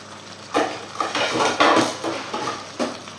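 A lid clanks and scrapes onto a pot of cooking mussels, making several close metallic knocks and rattles as it settles.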